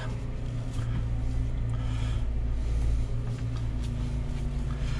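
Jeep Wrangler JK engine idling with the steering wheel turned to full right lock, a steady low hum and whine of the working power steering pump, close and continuous with no talk.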